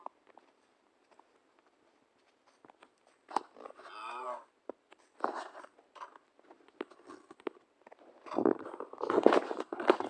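A cow in the video game Minecraft lets out a single nearby moo, surrounded by quieter clicks and scattered game noises.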